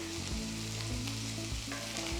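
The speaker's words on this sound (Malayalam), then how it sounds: "നമ്മൾ ഈ കടുക് പൊട്ടിക്കലിലാണ്" Seeds crackle in hot oil for a dal palak tempering, giving a soft, continuous sizzle with small pops and stirring, fairly faint and with no voices.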